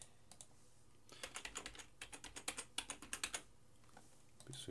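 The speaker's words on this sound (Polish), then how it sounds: "Wpisujemy hasełko." Quiet, close keystrokes on a computer keyboard as a password is typed, a quick irregular run of clicks in two bursts, with no talking.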